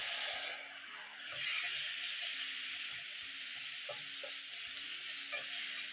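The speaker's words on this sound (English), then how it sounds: "When the color is perfect, you're going to add in your meat." Camel meat frying in a pot with fresh garlic and ginger gives a steady, loud sizzle throughout, with soft scraping and stirring knocks underneath.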